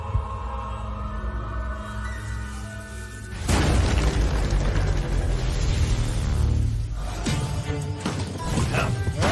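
A sudden heavy boom from an animated series explosion hits partway through, followed by a loud rumbling roar with crashing debris-like noise, over a low droning background.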